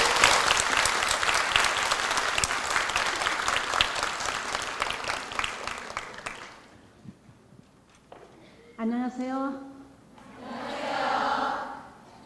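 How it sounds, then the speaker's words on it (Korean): A crowd at a university debate competition final applauds loudly for about six seconds before the clapping fades, and a voice then speaks into the quiet hall. "힘찬 박수로."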